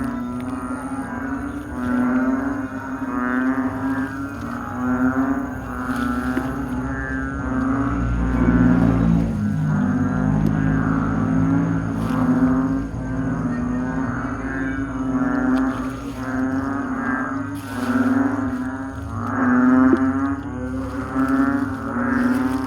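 A large chorus of frogs croaking at night, loud and continuous, with layered overlapping calls pulsing together and no clear pauses for the full duration.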